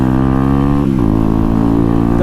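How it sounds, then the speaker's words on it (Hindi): Loud, steady motorcycle engine note from a Honda NS125 fitted with an SC Project aftermarket exhaust, heard close up while riding, with a brief dip and shift in pitch partway through. "भाई एग्जॉस्ट की आवाज़ सुन रहे तुम, क्या ही शानदार खतरनाक आवाज़ आ रही है"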